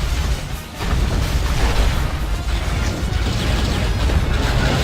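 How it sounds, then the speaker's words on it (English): Heavy explosion from a monster's exploding-head attack in the War of the Monsters video game on PS4, a dense, loud rumbling blast that fills the whole moment with crashing, booming debris noise. "Feel the power of my awesome exploding head."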